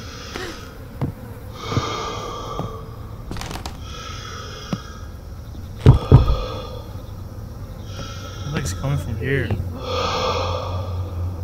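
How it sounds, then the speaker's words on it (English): Creepy, raspy breathing in the horror video game Summer of 58, rising and falling in repeated breaths under players chatting over it, with a few sharper thuds mixed in. "Sounds like something's coming. The breathing's coming from."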